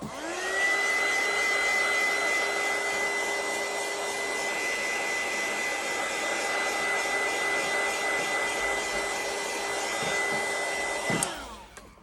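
A hair dryer blows a steady, loud, continuous whir over a decorated grunge-style fairy journal page for about eleven seconds before it cuts off abruptly; no one speaks.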